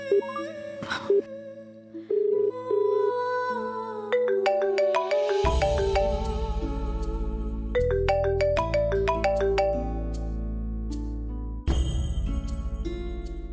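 A phone ringtone plays a bright, repeating electronic melody, loud and close, with a short pause before the tune resumes.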